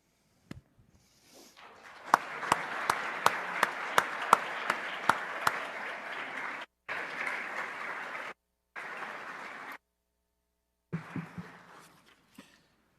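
Audience applause for university staff marking five years of service at a recognition ceremony, a broad moderate wash of clapping with sharp individual claps on top, breaking off in gaps and fading to scattered claps.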